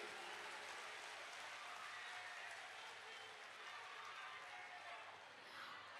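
Crowd applause at a political rally, steady dense clapping filling the whole stretch, faint and distant with a murmur of voices beneath.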